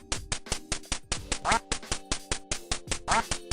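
Chiptune duck quacks from the 8-bit NES game Duck Hunt, repeating in a rapid electronic rhythm of short bursts with a steady tonal background, loud and with no talking.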